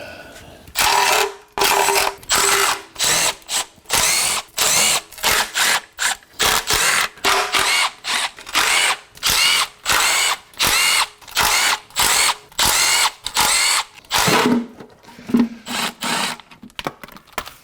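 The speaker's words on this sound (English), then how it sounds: "It's just a matter of removing all the 10mm fasteners around the circumference of the pan." An impact or power tool rattles out 10mm oil pan fasteners on a 2000 Acura Integra, loud, close and alone, in many short repeated bursts with brief gaps between them.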